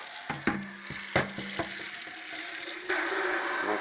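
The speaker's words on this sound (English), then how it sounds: "Make sure I mix up the lime really good" Coco coir substrate block being stirred with warm water and lime, wet crumbly swishing and several sharp knocks, close up, with no talking.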